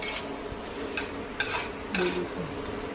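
Finely chopped onions sauté over a low flame in a pan, giving a quiet, steady sizzle with a few light scrapes and clinks from stirring.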